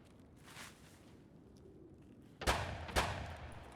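Two distant shotgun blasts from a Scav in Escape from Tarkov, about half a second apart, following a quiet stretch with faint background noise and a muffled earlier thud.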